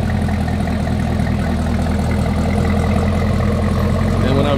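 A 2018 Camaro ZL1 with its secondary catalytic converters deleted idles close by, a steady, deep, loud rumble with a constant low throb and no voices.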